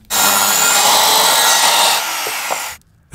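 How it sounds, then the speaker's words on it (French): Hand saw cutting through a piece of squared timber for roof insulation framing, a steady continuous rasping of close strokes lasting nearly three seconds before stopping abruptly. "Scie 2 morceaux adaptés de bois équarri"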